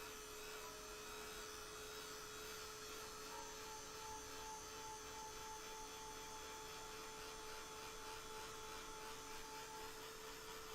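A hair dryer dries the background of a gouache painting, a steady whirring drone that runs at constant level for about eleven seconds with a faint tonal whine, alone with no talking.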